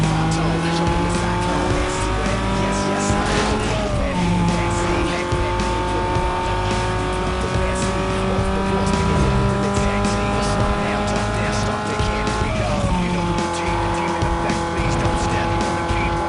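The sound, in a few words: race car braking and cornering in Need For Speed: Most Wanted video game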